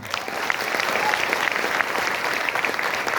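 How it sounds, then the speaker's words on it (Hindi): Steady crowd applause in a hall during a Vestige success-story talk, many hands clapping together at an even level from start to finish, with no voices on top. "मैं चाहूंगा एक बार एक ताली जोरदार हो मेरे अपलाइन यहाँ पे बैठे हुए मिस्टर सुरेश पंडित जी के लिए।"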